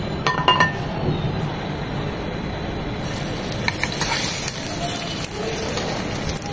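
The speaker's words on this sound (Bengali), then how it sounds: "দিয়ে দিচ্ছি 2 চামচ সয়াবিন তেল।" Two spoons of soybean oil go into a pan for butter garlic fish fry. A few light clinks come early, followed by a steady, soft hiss that continues to the end.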